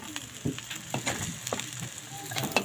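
Corned beef and eggs frying in a pan for breakfast, soft sizzling with scattered clicks and scrapes of a utensil against the pan, fairly quiet and close.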